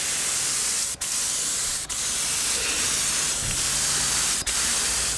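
Satin black spray paint hissing from an aerosol can onto an old cover in a workshop, a loud close steady spray broken by three brief pauses as the nozzle is released.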